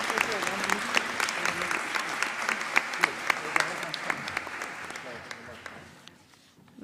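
Audience applause at a girls' high school awards ceremony, a steady wash of many hands clapping with sharp individual claps standing out, sustained for several seconds before thinning and fading at the end.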